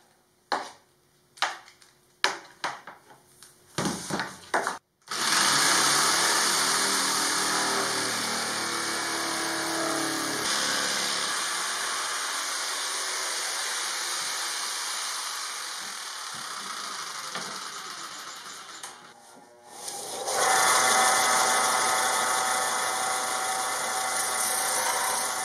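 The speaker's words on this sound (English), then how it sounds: "now we're going to do some sawing" A few sharp knocks, then a power saw whines steadily through curved plywood for a long stretch, briefly dips, and resumes loud and close.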